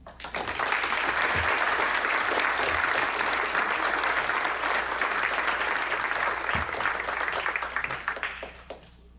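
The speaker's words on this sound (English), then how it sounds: "Let's give him another round of applause." Loud, sustained applause from an audience at a charity awards event, a dense wash of clapping that swells quickly, holds steady for several seconds, then tapers off.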